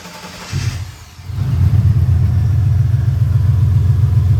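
A turbocharged LS-swapped 1985 Monte Carlo cranks and fires up, settling into a loud, deep, lumpy idle that rumbles close by.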